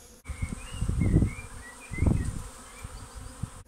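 A garden swarm of honeybees buzzes close by, a dense droning hum that swells in two louder bursts as bees pass near, with soft rustling and faint birdsong behind.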